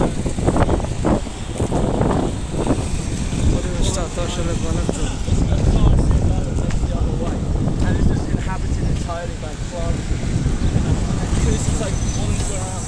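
Strong wind by the sea in Lisbon, Portugal, buffets the microphone with loud continuous rumbling gusts. Voices and background activity can be heard underneath.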